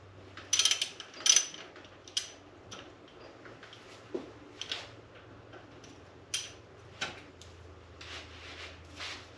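Ratchet tightening cylinder head bolts on a Land Rover Discovery 2 engine, alternating sides; close sets of light mechanical clicks come in short bursts with brief pauses, sharper strokes at the start.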